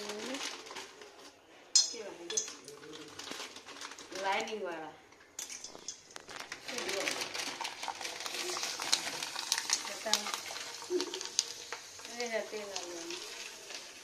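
Farali snacks fry in hot oil with a steady hiss and crackle, and utensils clink now and then while people talk nearby.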